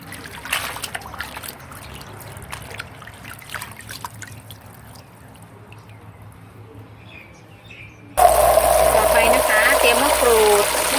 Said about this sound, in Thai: เราก็ต้องล้างน้ำเกลือที่เราแช่ให้สะอาดเช่นกันค่ะ ล้างสักสองน้ำนะคะ